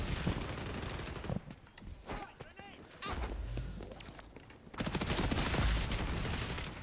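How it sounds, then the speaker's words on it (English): Automatic weapon fire in the XDefiant shooter game, with rapid bursts of shots, short pauses between volleys, and a heavier sustained burst toward the end, loud and close over game noise and a voice talking. "That guy just ran into my bullets."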